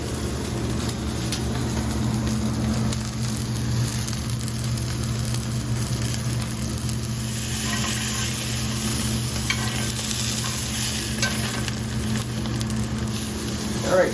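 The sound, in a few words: bratwurst sizzling in a pan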